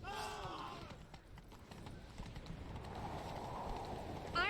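In The Witcher 3 game, horse hooves clip-clop rhythmically at a steady gallop, with a brief neigh and faint game effects around it.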